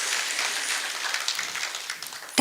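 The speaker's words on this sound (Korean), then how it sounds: "심사해 주신 모든 분들께 감사의 박수 부탁드립니다." Applause from the audience at a Buddhist press culture awards ceremony, a broad, even patter of many hands that carries on steadily and then gives way to a sharp closing thump, moderately loud and without speech.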